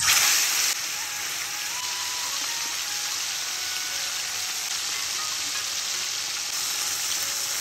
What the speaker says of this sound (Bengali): এদিকে তেল গরম হয়ে গেছে, এবার আমি মাছটা ভেজে নেব।